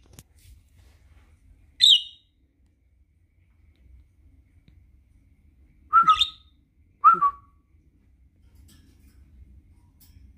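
A pet parakeet indoors gives three short, sharp chirps and whistles, one early and two close together later, loud and near against a quiet room with faint low background hum and no talk.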